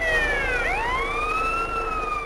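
Ambulance siren in the GTA San Andreas Definitive Edition video game, a loud continuous wail sweeping down then rising again, steady and close with no talk over it.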